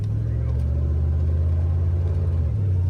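Ford F-250 engine running with a deep, steady rumble, loud and close, the idle shifting slightly near the end with little sign of a distinct start.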